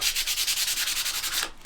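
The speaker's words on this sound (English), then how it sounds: "So I'm gonna start off with the 220, and I'm just gonna go across the top." Rhythmic back-and-forth rasping of a 220-grit sanding block across the top of a wooden single-tier riser, about a dozen quick close strokes in under two seconds, with no voices.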